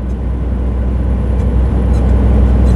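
A Scania P440 truck labours in 10th gear up a long, steep hill, heard from inside the cab as a loud, constant low engine rumble with no break.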